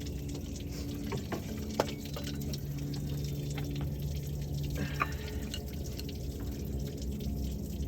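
Water drains from the engine of a 2004 Jeep Liberty during water pump removal, a steady low trickle with a few faint drips, close and continuous for several seconds with no talking.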